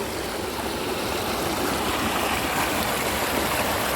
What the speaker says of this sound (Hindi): ये पानी सामने पहाड़ के दामन से एक गार से निकलती है